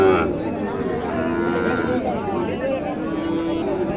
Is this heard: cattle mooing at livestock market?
yes